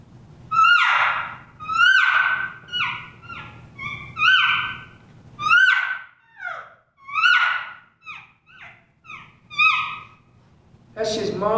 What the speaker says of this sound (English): Mom and calf talking to each other. That's cow and calf communication.